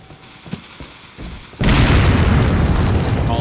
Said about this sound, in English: Hand grenade.